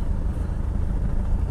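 A Kia Sorento 2.5 TD diesel crawling through a deep off-camber dip at low revs, a steady low rumble of engine and drivetrain heard from inside the cabin, even and unbroken.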